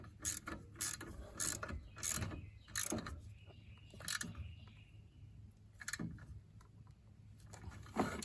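A ratchet tightens bolts on the rear brakes of a 2009-2016 Mercedes-Benz E350, giving repeated short bursts of quick metallic clicking with small gaps between strokes, fairly quiet and close.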